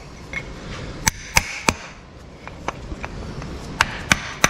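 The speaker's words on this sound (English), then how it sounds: "And then I use my installer again to tap it in." An installer tool taps a new seal into the front cover of a 5.3 LS engine during a rebuild, giving sharp, separate knocks in uneven clusters at close range against a soft background hiss.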